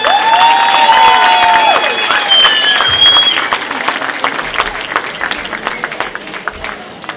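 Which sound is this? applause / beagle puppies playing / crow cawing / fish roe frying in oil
applause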